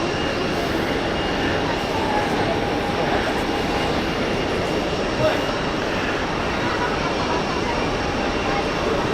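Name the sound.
Swiss passenger jet taxiing at Zurich Airport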